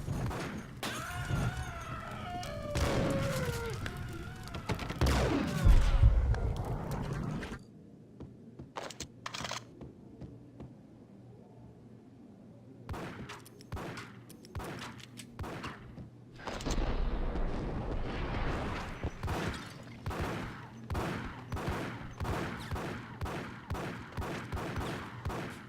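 Beretta pistol fire in Max Payne: a flurry of sharp gunshots early on, then sparse isolated shots after a quiet stretch, followed by a dense run of rapid repeated cracks, loud and close.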